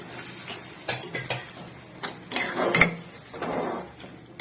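Water goes into a simmering masala gravy and a spoon stirs the pot, giving scattered metallic clinks and scrapes followed by a brief splashy wash.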